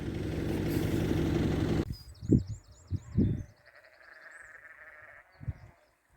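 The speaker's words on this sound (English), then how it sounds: "Some sheep having a conversation." Sheep bleat a few times at moderate distance near Machrihanish, Campbeltown, after a burst of wind noise, with faint birdsong and a low engine hum behind.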